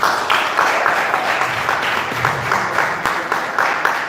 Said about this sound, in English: Let's give an applause for him.